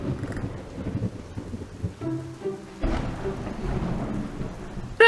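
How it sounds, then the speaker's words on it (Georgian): Heavy rain and rolling thunder in a cartoon about racing dinosaurs, a steady downpour hiss with a deep rumble building midway and a sharp crack at the very end, no voices. "რა ძლიერი წვიმა."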